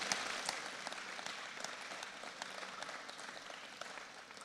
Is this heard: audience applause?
yes